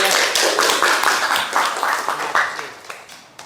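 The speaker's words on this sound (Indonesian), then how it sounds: "Beri aplaus buat Bayu." Classroom applause for a student named Bayu, a burst of many hands clapping fast and close, tapering off over a few seconds.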